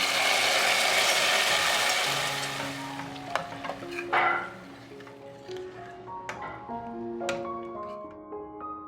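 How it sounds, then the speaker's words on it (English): Fried cashews are stirred into warm banana kheer, a thick, sizzling swish at first that fades into a series of light spoon clinks and scrapes against the pot. "Add to the kheer and mix."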